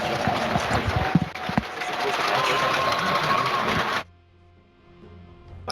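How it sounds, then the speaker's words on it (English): A Starladder i-League esports playoff crowd at Team Liquid vs Alliance roars loudly and steadily for about four seconds, with scattered sharp bursts, then cuts off abruptly to near quiet. "We can hear the crowd getting a little rowdy."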